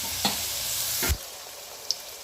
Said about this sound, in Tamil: இப்போ வெங்காயம் நல்லா வதங்கணும்